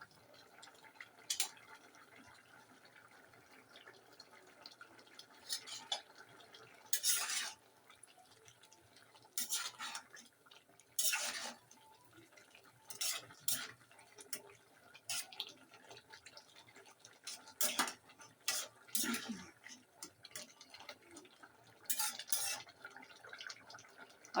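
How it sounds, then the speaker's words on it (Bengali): Curry being stirred and sautéed in a pot while it boils, scattered sharp scrapes and clinks of a spoon against the metal over a low bubbling background, close and intermittent, with no talking. "যেহেতু সিদ্ধ করে নিচ্ছি, কষাই নিচ্ছি একদম"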